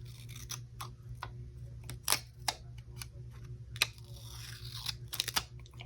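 Scissors snip through paper during a planner setup, a series of short crisp cuts spread irregularly over steady low room hum, fairly close and moderately loud.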